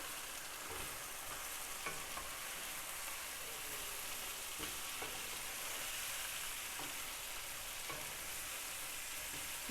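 Chicken masala fries in a pan with a soft, continuous sizzle and occasional stirring scrapes, heard fairly faint and steady throughout.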